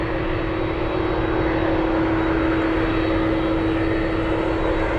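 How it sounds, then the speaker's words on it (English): A small Cessna 441 Conquest twin-turboprop takes off at Anchorage airport, its steady engine drone loud and continuous with a strong sustained tone, no voices present. "Looks like we have a small one taking off."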